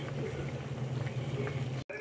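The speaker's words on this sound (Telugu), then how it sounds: "మనం ఉడికించి పెట్టుకున్న బొబ్బస్కాయ ముక్కల్ని పంచదార పాకంలో వేసి ఇలా కొద్దిసేపు ఉడికించుకోవాలండి" Raw papaya pieces simmer in sugar syrup for tutti frutti, giving a steady close bubbling and hissing boil that runs unbroken before a brief cut near the end.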